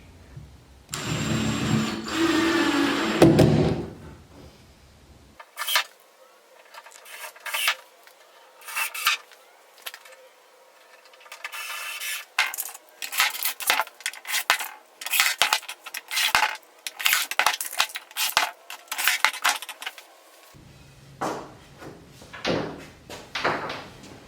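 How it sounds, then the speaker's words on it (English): A metal piano hinge is fitted to a DIY rooftop tent, with clinking metal handling followed by a long series of sharp clicks and scraping taps, close by and irregular. "So we're gonna install this piano hinge."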